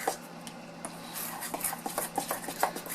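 Spoon stirring red food colouring into frosting in a bowl, soft scraping and light clinks against the bowl that grow more frequent and rhythmic, close and fairly quiet with no speech.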